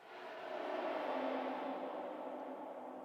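A smooth synthetic whoosh swells and sustains for a few seconds, a steady airy sweep like something passing by, with no voices.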